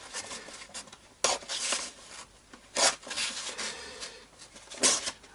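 Fine 600-grit sandpaper rubs through the string slots of a guitar nut on a Fender Modern Player Telecaster, giving soft gritty scraping strokes with three sharper, louder rasps spaced a second or two apart, close and alone.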